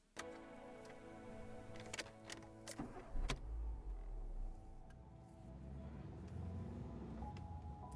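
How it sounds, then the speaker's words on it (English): A car is started as a trailer sound effect: a few sharp clicks and ticks, then the engine turns over into a low rumble that settles into a steady idle hum, with no talk. "this is why I included the sound of turning on the car quickly"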